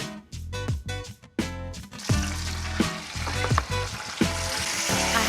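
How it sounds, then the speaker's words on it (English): A caramel glaze sizzles loudly in a hot pan, a steady crackling fry broken by clinks and scrapes of stirring, close up with no talking. "just listening to that sizzle, it speaks for itself."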